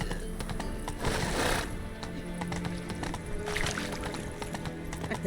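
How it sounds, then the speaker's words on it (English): A horse gallops in The Witcher 3 video game, with steady rhythmic clip-clop hoofbeats that continue throughout, mixed with busy in-game ambience and occasional surges of louder sound. "Run, Roach"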